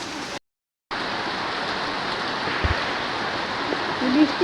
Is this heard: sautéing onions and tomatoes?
no